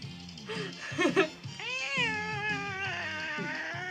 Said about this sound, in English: It's Rainbow, the cat from the Mystery Shack